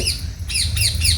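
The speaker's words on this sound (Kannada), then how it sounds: "ನಮ್ಮ ಮನೆ ಬಳಿ ಗಿಳಿ ಬಂದಿದೆ ಗಿಳಿ ಶಬ್ದ ಕೇಳುತ್ತಿದೆಯಾ" A parrot squawks three times in quick succession, loud and close, harsh raspy calls over a low background hum.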